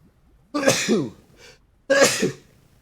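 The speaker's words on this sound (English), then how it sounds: "That is a sneeze coming on." Two explosive sneezes close up, the first with a drawn-out gasping tail, a short breathy sound between them, then a second sharp burst.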